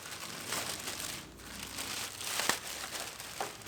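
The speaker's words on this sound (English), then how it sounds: "And now we'll open up some more plastic bags and throw them on the ground." Plastic bags opened and crinkled inside an Acura RDX being rebuilt after a total loss: close, quiet, continuous rustling with a few sharper crackles.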